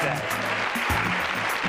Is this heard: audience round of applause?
yes